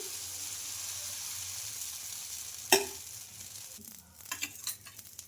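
Dosa batter made from sago and green gram sizzles on a hot pan, a steady close frying hiss with a sharp tap partway through and soft spreading and scraping sounds afterward.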